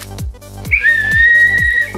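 A young girl whistles for the first time, producing a single wavering, sustained whistle lasting about a second. A steady beat of low, thumping background music plays underneath.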